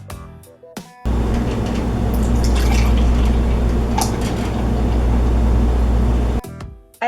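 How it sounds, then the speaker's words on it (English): Milk poured a little at a time into a thick custard mix of cornstarch and vanilla, a steady close liquid pour with low drumming and trickle that runs for several seconds before stopping. "added in the milk a little bit at a time just because the mix was pretty thick"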